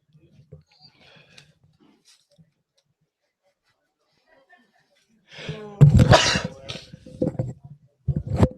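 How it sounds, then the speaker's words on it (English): A single loud, close sneeze from a sports broadcaster at a baseball game, preceded by faint quiet background and followed by brief throat sounds and talk. "If you heard that, I sneezed."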